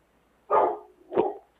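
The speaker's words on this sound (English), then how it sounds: "Sorry for the bark." A dog gives two short barks close by. The first bark is louder and held a little longer, and the second is sharper. Both come alone, with no talking.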